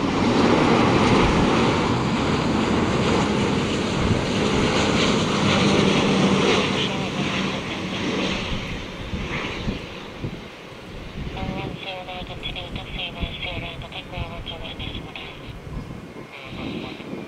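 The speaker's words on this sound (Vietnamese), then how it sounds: "Còn đây là Airbus A350-900 của Cathay Pacific đang bước vào hạ cánh tại sân bay Tân Sơn Nhất." A Cathay Pacific Airbus A350-900 lands at Tan Son Nhat airport, a loud, sustained jet roar with heavy wind noise on the microphone that eases gradually while a voice talks over it.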